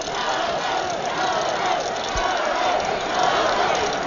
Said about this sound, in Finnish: Yleisö kannustaa ja huutaa täällä Jannea